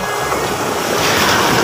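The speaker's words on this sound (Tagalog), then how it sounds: "Alon." Ocean surf washes in a steady, loud broadband rush along with wind buffeting a microphone, heard from a boat while late-afternoon casting for fish at sea, with no voices.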